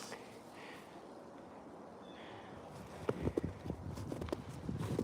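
Horses walk at a ranch, hooves clip-clopping in an irregular cluster of thuds that picks up partway through, heard under steady outdoor background noise.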